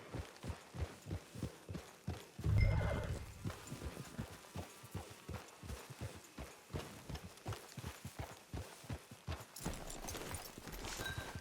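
A horse trots along in the Red Dead Online video game, its hooves clip-clopping in a steady, even rhythm throughout, with a brief louder burst early on and no neighing evident.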